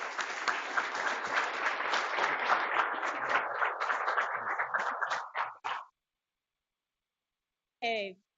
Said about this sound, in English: Let's get one more round of applause for our speaker.